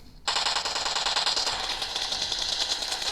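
Rapid automatic gunfire in the PUBG Mobile shooter game, played on a Redmi Note 10 phone, bursts in abruptly and keeps up a dense, loud, continuous rattle to the end.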